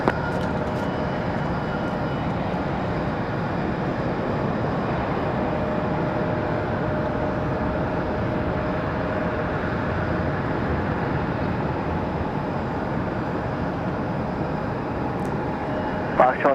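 A jet engine rumbles steadily as an American airliner takes off from a runway at Raleigh-Durham International Airport, a broad sustained roar holding level for the whole stretch, with faint distant talk underneath.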